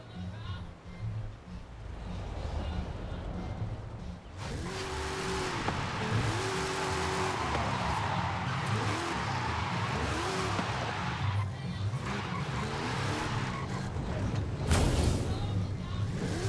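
A car in a video game revs hard and skids, its engine note sweeping up and down through repeated gear shifts while tyres squeal over a continuous loud roar. Someone talks over it.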